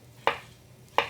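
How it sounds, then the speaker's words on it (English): A knife chops a block of feta cheese into little bits on a cutting board, two sharp crisp cuts spaced under a second apart against a quiet kitchen background. "I'm going to start by just chopping it into little bits"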